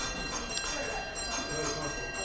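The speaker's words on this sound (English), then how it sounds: "you've heard the bell go off while I'm talking" Division bell ringing for a vote in the UK Parliament at Westminster, a continuous shrill electric ring held steady throughout, loud and close, with a voice talking under it.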